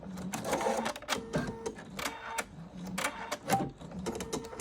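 A Husqvarna Viking Sapphire 85 sewing machine runs a test stitch with quick, choppy bursts of mechanical whirring and clicking, each separated by short pauses, fairly close and moderately quiet.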